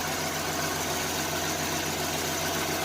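A Chevrolet Lumina Eurosport with a 3.1 V6 engine idling, a steady low rumble with an even, unbroken drone heard alone.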